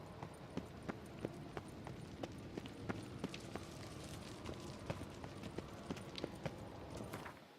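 Horse hooves clip-clop at a steady walking rhythm through The Witcher 3, each strike crisp and distinct over a soft ambient bed of wind and rustle.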